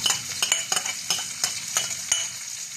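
Onion and garlic sauté in a pan for a Filipino kinamatisang pampano dish, giving a steady close sizzle broken by repeated sharp scrapes and clinks of a utensil stirring, with no voices.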